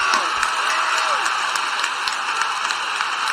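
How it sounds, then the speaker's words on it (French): An audience applauds an improv performance, giving steady continuous clapping from a crowd throughout, with a faint voice underneath. "Et je vous applaudis également"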